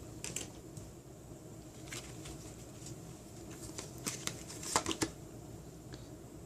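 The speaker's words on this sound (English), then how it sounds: "I'm going to pull 9 cards from this deck" Tarot cards are drawn from a deck with quick, light paper flicks and slides, soft scattered snaps that grow more pronounced toward the end, no voice over them.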